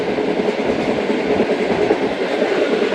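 The Shalimar Express running at about 100 km/h near Lodhran Junction, a loud, steady rumble of wheels on rail heard from on board, with no voices.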